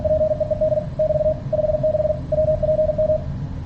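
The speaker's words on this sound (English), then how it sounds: "hear that same text message as CW" Morse code text message keyed as CW by an ESP32 keyer server: a steady single-pitch tone beeping in rapid dot-dash groups with short pauses between words, clear and alone.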